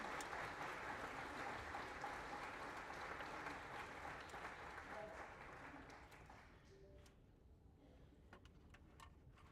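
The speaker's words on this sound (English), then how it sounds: "I invite you to make another round of applause to those that have opened this conference." A plenary audience at a conference gives a thick, sustained round of applause, heard faint and distant, that gradually dies away into scattered claps over the last few seconds.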